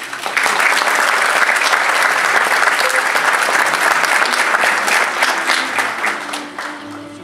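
Sustained audience applause at a university degree ceremony for new music education teachers, dense and steady throughout before tapering slightly at the end, with no talk over it.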